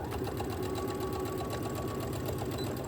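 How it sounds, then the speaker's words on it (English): A sewing machine stitches a quarter-inch seam on a fabric bag in a steady, loud, continuous whir that runs alone throughout. "So I'm gonna sew, I'll probably sew a 1/4 inch seam."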